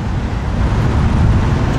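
Road traffic rumbles outdoors in Polynesia, a loud, steady low wash of passing cars and wind noise heard while walking, without speech.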